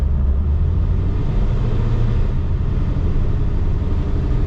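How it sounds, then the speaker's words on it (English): A ProCharged, cammed 5.7 R/T Hemi engine pinned against its rev limiter, a loud, steady, buzzing roar that holds for several seconds, close by and with no voices. "She hit that rev limiter."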